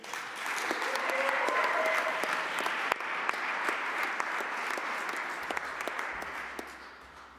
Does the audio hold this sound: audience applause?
yes